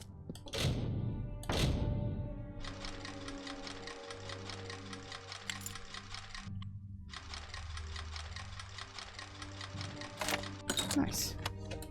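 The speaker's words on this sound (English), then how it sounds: "now what we got to do is just run around and destroy boxes" Boxes being smashed in Kingdoms of Amalur: a few sharp, close wooden cracks and thuds, then bursts of rattling, clattering debris broken by brief pauses, with game music humming underneath.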